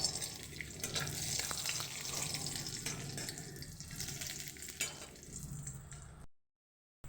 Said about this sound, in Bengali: তো কড়াই তেল দিয়ে দিয়েছি দেখুন খুব অল্প পরিমাণে তেলটা দিয়েছি আমি তার মধ্যে আমি দিয়ে দেবো বড়িটা বড়িটাকে আমি একটু ভেজে তুলে নেব